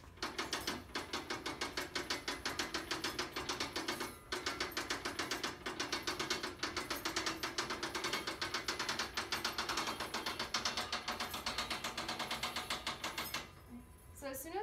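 A clay slab roller feeds clay and canvas through its rollers with a fast, rhythmic mechanical clatter of gears and ratcheting, steady and continuous for most of the stretch before stopping near the end, while a person talks over it.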